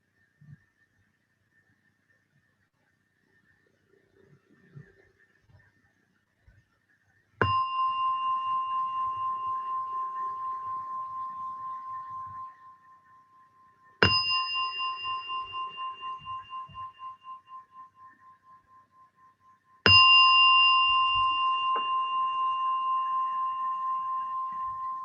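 A meditation gong struck three times at the close of a mindfulness session, each strike ringing out clear and bright before slowly fading, with near silence between.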